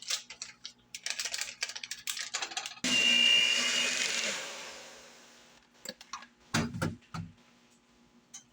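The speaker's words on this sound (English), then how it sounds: "mix it up with an electric mixer" Electric mixer beating cookie ingredients in a bowl, a sudden loud steady whir that starts after some clattering and gradually winds down, followed by a few sharp knocks and clinks.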